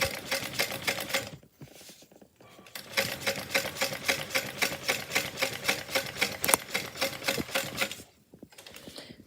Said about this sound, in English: I will just start to sew around this window.